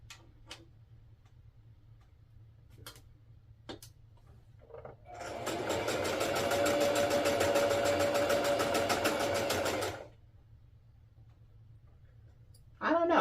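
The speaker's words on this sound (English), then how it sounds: "I think I'm going to run this sleeve through the serger as well." A Singer serger hums and rattles steadily for several seconds at close range while sewing a sleeve, a fast even mechanical whir, bracketed by scattered small clicks and handling noises.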